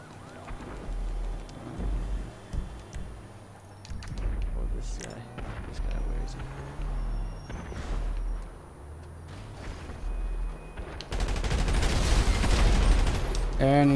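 Gunfire in GTA Online's Gunrunning mode, including a sniper shot, comes as scattered distant shots and then a dense, loud barrage over the final few seconds, while someone talks throughout.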